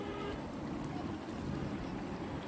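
Sambar bubbling on the stove in a pot, a steady dense simmering hiss with soft continuous bubbling, close and fairly even throughout, no voices.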